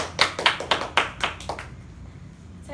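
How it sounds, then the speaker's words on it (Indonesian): Brief classroom applause for a student group: about seven crisp, evenly spaced hand claps over a second and a half, then a quiet room tone. "Tepuk tangan buat kelompok 1."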